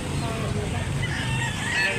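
A medium-sized white-legged rooster at a Cebu poultry market, with a steady dense clucking and crowing texture sounding close and continuous, mixed with faint background voices.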